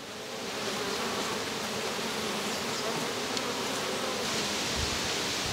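A dense, steady hum of many Buckfast honeybees buzzing together, continuous and fairly close, with no voices.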